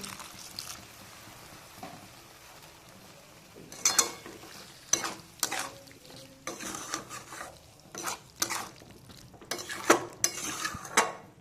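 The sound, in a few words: sautéing spiced potatoes with a little water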